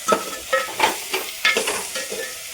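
Bhajiya fritters sizzle in hot oil while a utensil stirs and scrapes in quick, repeated strokes, close and fairly loud.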